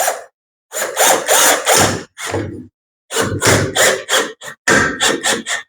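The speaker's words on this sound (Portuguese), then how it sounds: "Eu vou parafusar na outra, ó." A power drill drives screws into a large wooden canvas frame in loud, close bursts, with two longer runs and several shorter trigger pulls separated by brief pauses.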